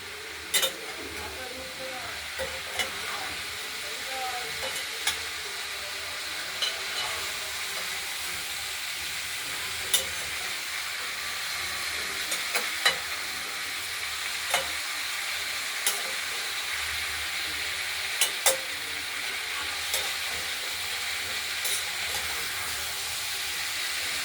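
Green chillies and mixed vegetables, including red potato, pumpkin, flat beans, cauliflower, drumstick and brinjal, stir-fry in a pan with a continuous soft sizzle and occasional scraping clicks from stirring throughout.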